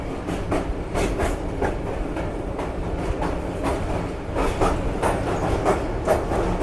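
A passenger train on the Lahore to Rawalpindi line rumbles steadily from inside the carriage, with rhythmic clickety-clack of wheels over rail joints repeating throughout.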